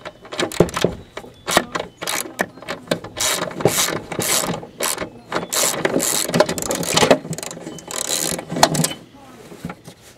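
Ratchet wrench clicking in rapid bursts while backing out a bolt from a lawn mower motor during an engine swap, close and fairly loud with short pauses between runs of clicks.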